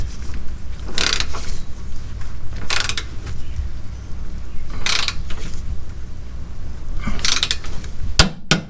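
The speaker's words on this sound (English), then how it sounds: "These two bolts here and here, they're going to be torqued to 103 foot-pounds." On a 2006 Nissan Altima, a torque wrench tightens lower control arm bolts to 103 foot-pounds, giving sharp close ratcheting bursts about two seconds apart and ending in a louder final click over a low background hum.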